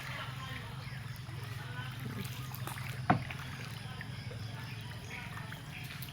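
A motorboat on open water during a picnic outing at Sabangan gives a steady low engine drone, with wind and water wash over it and faint voices in the background.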